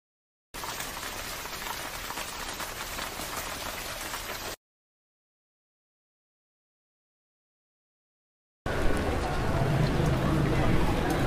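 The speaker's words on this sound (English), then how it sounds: "with a raining ambient sound" Steady rain patters in a city street during a rainstorm, two even, moderately loud stretches separated by several seconds of silence, with no voices.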